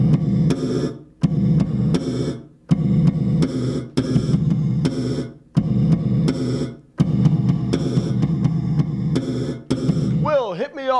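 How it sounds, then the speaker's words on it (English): Bass guitar slapped in snare-like pops through a gated reverb, played in a clinic on new bass techniques: loud, dense bursts that cut off abruptly with short gaps between, ending in a brief warbling effect. "What works good with this is when you have a gated reverb or some kind of reverb"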